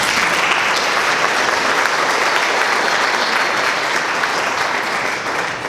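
Dense, steady audience applause at a council candidate forum, many hands clapping at once close by, holding at full strength throughout and easing only slightly at the very end.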